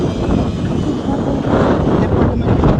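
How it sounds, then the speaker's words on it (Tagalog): Strong wind roars across the microphone on a mountaintop glass walk in the Philippines, a loud, continuous buffeting rumble that swells toward the end, with no talking. "Sobrang lakas ng hangin."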